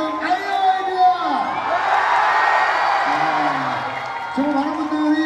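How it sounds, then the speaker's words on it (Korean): A crowd at an outdoor opening-ceremony concert cheers with whoops and shouts and broad crowd noise. Voices rise over the cheering at the start and near the end. "여러분 다시 한번 큰 박수 부탁드리겠습니다"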